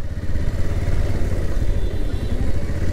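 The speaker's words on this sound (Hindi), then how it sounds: "इस रोड पे बहुत ही तेज़ गाड़ी चलता है, मतलब बाइक ऑटो सभी तेज़।" Motorcycles and other fast traffic on a busy road, a loud continuous engine rumble and clatter close by with no break.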